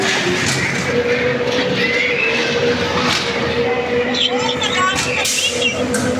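A ghost train ride at the Korupark amusement park in Bursa, Turkey, its cars rumbling and clattering steadily close by with faint squeals, while people talk and call out over it.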